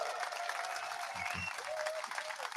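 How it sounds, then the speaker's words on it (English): A live crowd at the X Takeover 2025 event applauds and cheers, a dense, steady wash of clapping with whoops rising through it, loud and continuous with no break. "you have a whole bunch of people here just cheering"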